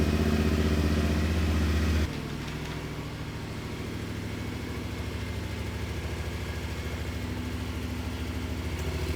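A Yamaha Tenere 700 motorcycle engine runs steadily close by, a loud low idle with a pulsing beat that drops slightly in level after two seconds and then holds even.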